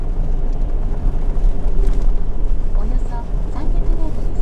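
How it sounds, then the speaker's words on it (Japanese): A Toyota Aqua hybrid E-Four with a 3-cylinder engine revs hard while driving on a snowy road, giving a steady low rumbling drone under a person talking. "今エンジン結構な勢いで回ってますが、やっぱりエンジン回るとエンジン音若干気にはなりますね。"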